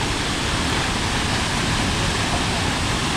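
A waterfall in a natural outdoor setting thunders steadily and close by, a dense unbroken roar of falling water with no pauses or voices over it.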